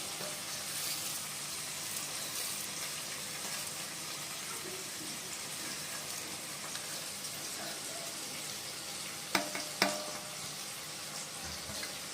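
Onions fry into birista for Hyderabadi masala chicken, a continuous hiss of sizzling oil with a couple of brief clinks near the end.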